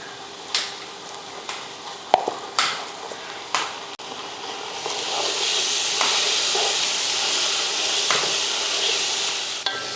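Ginger garlic paste fries and is stirred in a pot for mutton biryani, a steady loud sizzling hiss that swells midway, preceded by a few sharp clinks of a spoon against the vessel.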